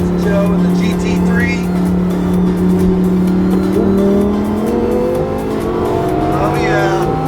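A Porsche GT3 sports car drives among Lamborghinis and a McLaren, its loud engine droning and shifting pitch as it accelerates nearby, with wind and road noise throughout.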